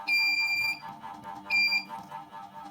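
An electronic buzzer alarm wired to an Arduino in a DIY infrared security system beeps in two short high-pitched bursts about a second apart, fairly quiet, with faint background noise between.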